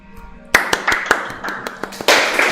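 A conference audience claps after a software talk on state management: a few sparse, separate claps first, then a fuller burst of applause near the end, close and fairly loud.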